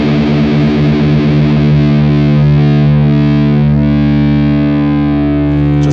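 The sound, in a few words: guitar open strings played while tuning by ear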